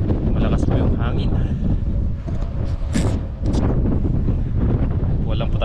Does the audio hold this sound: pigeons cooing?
no